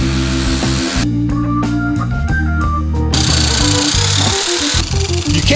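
A 4.5 inch angle grinder with a cutoff wheel slicing through sheet metal: loud, harsh whining grind with tonal hum, broken by several brief pauses as the cut starts and stops.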